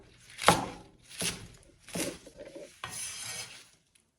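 Garlic sprouts are cut into short pieces with a kitchen knife on a board, four distinct chopping bursts roughly evenly spaced, close and moderately loud, the last stroke longer and scraping, with no talking.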